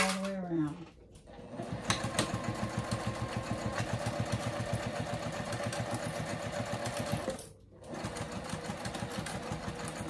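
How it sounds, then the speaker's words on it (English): A Juki sewing machine runs a long basting stitch around a circle bag, making a fast, even mechanical clatter. It starts after a short pause, continues steadily, breaks off briefly near the end, then resumes. A voice is heard only at the very start. "I'm going to do a basting stitch in number 4 on my machine"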